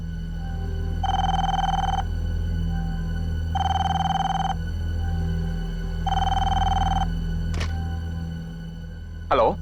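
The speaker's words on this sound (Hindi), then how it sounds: "इतनी रात गई, किसका फोन है?" A telephone rings late at night in three long, evenly spaced bursts over a low steady hum, followed by a couple of brief sharp noises at the end.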